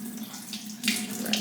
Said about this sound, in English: We're gonna put some cold water on it and give it a nice little rinse.